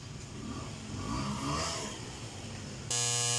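A faulty, droning loudspeaker is switched on: a low rumbling murmur gives way to an abrupt, loud, steady tonal whistle in the last moments, with no speech.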